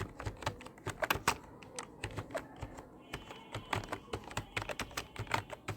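Fingers tap quickly on a computer keyboard in quiet bursts of clicks, a short pause midway, then more rapid key presses, close and alone with no talking.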